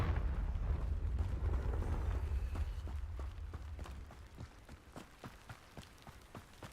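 A Confringo blast spell exploding in the video game Hogwarts Legacy, a rumbling burst that fades into a run of crackling pops and soft thuds.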